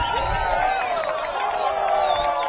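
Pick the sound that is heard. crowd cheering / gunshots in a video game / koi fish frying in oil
crowd cheering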